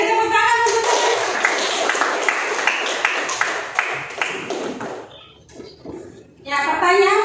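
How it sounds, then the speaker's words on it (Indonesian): A classroom audience of students claps together for several seconds, a steady patter of many hands, with a voice talking before the clapping starts and again as it fades out. "beri tepuk tangan untuk"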